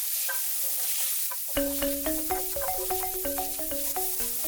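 A shrimp filling for tom yum spring rolls is stir-fried in a pan, with a constant hiss of frying beneath a run of bright, regular metallic clinks and scrapes as the spatula works the pan.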